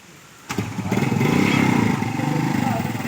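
A motorcycle engine starts up abruptly and then runs at a steady, loud idle-to-rev rumble close by during a test ride of a used bike, under faint background talk.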